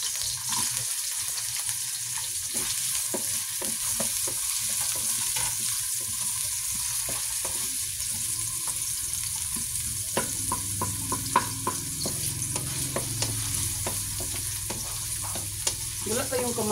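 Garlic sizzles steadily in hot oil in a pan while being stirred, with frequent scraping and clinking from the utensil, for a chicken soup with miswa and bird's eye chili; no voices.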